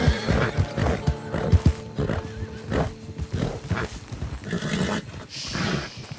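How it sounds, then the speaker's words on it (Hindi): A wild horse neighs and whinnies repeatedly while being broken in the Red Dead Online video game, its loud, shrill calls coming in bursts over snorts and stamping hooves. "ये जो बेकाबू घोड़ा है ना वो अकड़ को तोड़ना है ताकि ये मेरे कंट्रोल में आ जाए"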